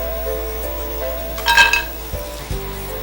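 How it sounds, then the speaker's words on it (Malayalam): Crisp fried jackfruit seeds land in a vessel after frying in oil, giving a brief cluster of bright clinks and rattles mid-clip, followed by a couple of softer knocks against a faint background sizzle. "പാത്രത്തിലിടുമ്പോൾ ഒരു ശബ്ദം കേട്ടല്ലോ, അതാണ് നല്ല പാകത്തിന് മൂത്തു എന്നുള്ളതിൻ്റെ സൂചന, ഒരു കരുകരു."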